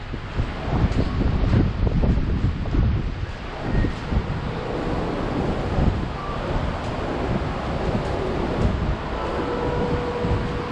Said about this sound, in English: I don't know why it's so windy all of a sudden.